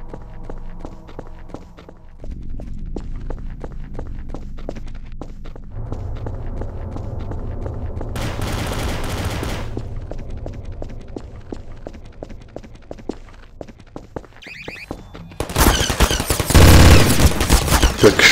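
Gunfire in the video game TTT: a steady patter of footstep-like taps gives way to a brief rapid volley midway, then a loud, dense burst of shots near the end, with no talking.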